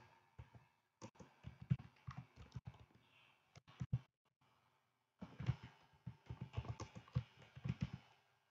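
Keys on a computer keyboard are tapped in quick bursts of close, crisp clicks, with a pause in the middle before the typing resumes.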